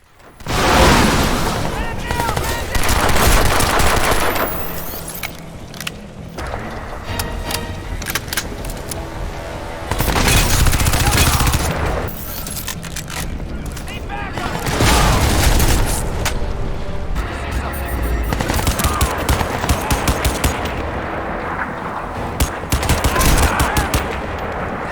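Gunfire from weapons in the shooter Crysis 2 Remastered fills the scene with rapid automatic bursts, booming shots and clattering effects, loud and nearly continuous in waves.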